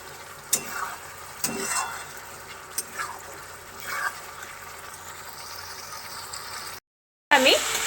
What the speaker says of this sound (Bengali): আলুগুলো দিয়ে দেওয়ার পরে আবার আলুর সাথে মশলাটা ভালোভাবে কষে নিচ্ছি।